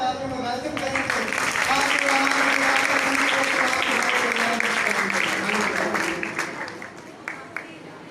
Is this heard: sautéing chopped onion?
no